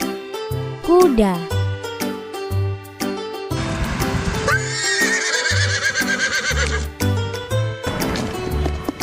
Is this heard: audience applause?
no